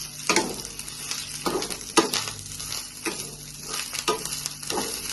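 Dry coconut and coriander roast in a pan, a low dry sizzle punctuated by several sharp scraping stirs of a spatula at irregular intervals.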